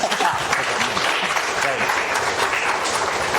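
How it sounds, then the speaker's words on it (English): A conference audience in the early morning breaks into a round of applause, a continuous wash of many hands clapping, loud and fairly close, with some voices faintly mixed in. "I think you guys should give a good round of applause to yourself first."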